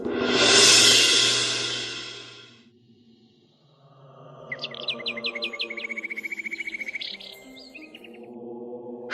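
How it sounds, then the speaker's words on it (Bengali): Birds chirping at dusk in a rural village, a burst of dense chatter at first, then after a lull a near bird gives a rapid, even run of bright chirps over faint background calls. "পাখিরা তাদের বাসায় ফিরছে,"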